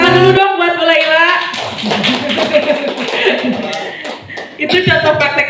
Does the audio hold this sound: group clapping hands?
yes